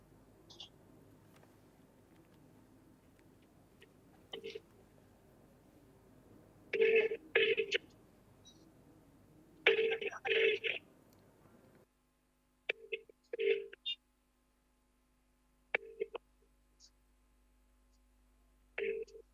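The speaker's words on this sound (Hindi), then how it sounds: "मैं इनको फोन मिला रहा हूँ और आप देख रहे होंगे कि रिंग भी जारी है" A phone rings repeatedly during an unanswered call, with short bursts of ringing tone spaced a few seconds apart, fairly faint, separated by quiet stretches and low background hum.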